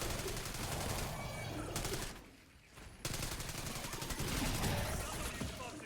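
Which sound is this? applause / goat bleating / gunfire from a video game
gunfire from a video game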